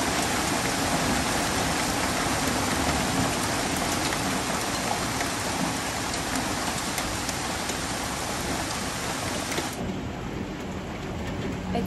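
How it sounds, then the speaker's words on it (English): Hail patters outside in Colorado, a dense, continuous hiss of small impacts that holds steady throughout with no voices. "It's currently hailing outside."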